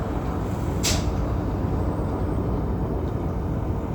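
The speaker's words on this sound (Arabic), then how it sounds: "في طيارة تانية جاية اهي، في طيارة تانية مسافرة اهي هناك اهي" A seaplane flying over Vancouver on a rainy day, its steady broadband engine drone continuous and fairly loud throughout, with a brief hiss-like burst near the start.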